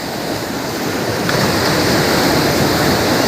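A steady, loud rush of rough sea surf at a beach in Digha roars continuously and builds slightly in intensity, with no voices.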